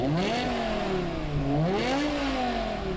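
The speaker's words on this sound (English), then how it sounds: "You just put your foot down and like it just keeps going, and this thing revs pretty high." A BMW M6 V10 engine revs up and down in smooth rising and falling sweeps, close and loud, with a steady droning tone and no talking.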